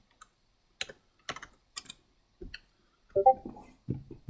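A handful of crisp keystrokes clatter on a computer keyboard, spaced irregularly and close, ending with a few heavier thuds like the enter key, in an otherwise quiet room.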